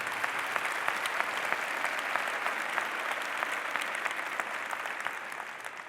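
Sustained applause from a large audience at a memorial celebration for Boone Pickens, a steady, moderately distant wash of many hands clapping with no talk over it.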